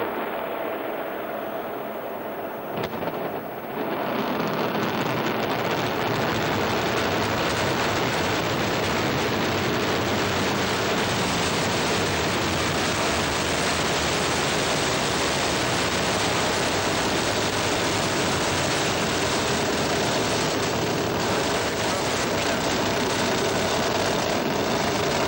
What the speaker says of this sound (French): Mighty roar of the big engines on the big Ariane 5 as she lifted off from the pad